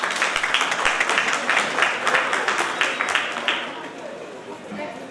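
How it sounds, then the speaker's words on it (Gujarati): Audience applause at a sangeet celebration, steady dense clapping from a crowd that holds for several seconds and then tapers slightly, with faint chatter mixed underneath. "તો એક દિલથી એમના માટે પણ જોરદાર તાળીઓ."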